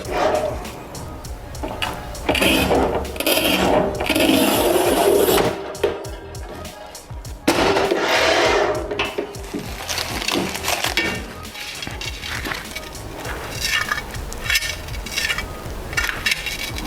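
A Kristal Giga Cut tile cutter working 9.5 mm porcelain stoneware tile, loud scraping and crunching bursts with sharp clicks and a snap, broken by a short pause midway.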